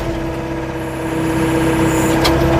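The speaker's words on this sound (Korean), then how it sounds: "엔진 소리 들리시나요?" A 2015 Volvo EC55C mini excavator's diesel engine runs steadily with a strong tonal hum, rising slightly in loudness as output is increased, close and continuous with no talk.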